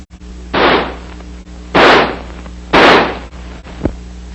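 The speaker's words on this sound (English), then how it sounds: "By closing the bolt and turning the selector lever to semi, the rifle will fire semi-automatically." An M16 rifle fires three separate semi-automatic shots, each a loud, sharp blast with a short decaying tail, spaced about a second apart over a steady low hum.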